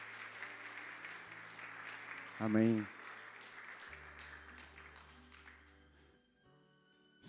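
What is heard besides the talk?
church congregation applauding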